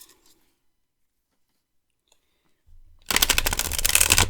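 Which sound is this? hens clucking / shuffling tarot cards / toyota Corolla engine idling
shuffling tarot cards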